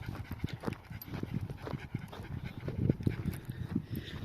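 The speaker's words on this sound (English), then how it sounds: "Bit of an aggressive dog there." A dog on a farm field pants and scuffles close by on a scorching hot day, with rapid rhythmic breaths and short bursts of movement over steady outdoor noise.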